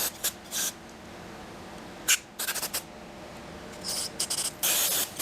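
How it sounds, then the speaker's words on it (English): Carb cleaner sprayed through the needle and seat of a long-idle generator carburetor, in several short hissing bursts with brief pauses between, close and fairly loud. "spray some carb cleaner through the needle and seat"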